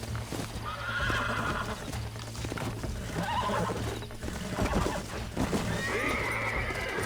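A horse in the Red Dead Redemption video game neighs and whinnies loudly while its hooves clip-clop steadily, close and continuous, with no talking.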